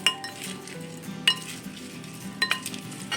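Metal spoons stir and scrape through a chili and garlic seasoning in a container, soft clinks and scraping close up, with a few sharper taps of spoon against the vessel edge.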